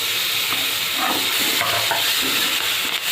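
Tomatoes are added to a masala frying in a pan with garam masala, for a potato gravy bhaji. Loud, close sizzling mixes with busy stirring scrapes, and no one talks.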